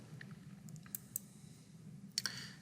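Several faint, sharp computer mouse clicks in CAD software, scattered singly and in a quick double, over a low steady room hum with no talking.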